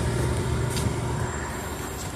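Steady diesel drone of a truck with a 10-speed gearbox, running loud and continuous through the clip with a brief rise in pitch as it revs between gear changes; no voices.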